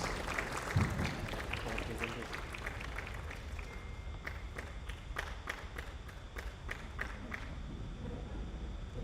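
Audience applause at a Kenyan space innovation and investment forum as a speaker walks to the stage, a continuous patter of many hands that thins into a few distinct, evenly spaced claps near the end, with faint crowd noise underneath.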